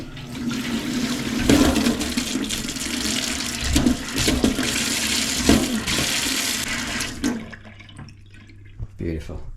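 Water rushes steadily through household pipes as the supply is turned back on after plumbing work, a loud continuous flow that cuts off abruptly near the end, leaving faint drips and quiet.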